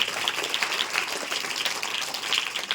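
Audience applause at a school honouring ceremony, a steady dense patter of many hands clapping throughout, fairly loud and without talk.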